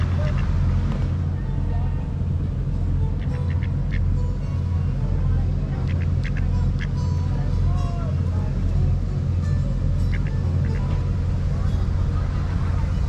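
Ducks quack in short bursts at Walt Disney World, set against steady low background rumble from crowds and nearby vehicles.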